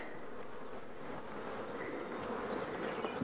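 Honey bees buzz steadily at an open hive comb, a dense close hum of many insects with no talking.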